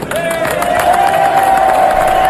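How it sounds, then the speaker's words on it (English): A crowd claps and cheers in the chamber for the State of the Union address: dense, steady applause throughout, with a thin sustained tone running over it. "look at everybody clapping"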